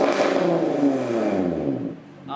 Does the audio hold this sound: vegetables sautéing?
no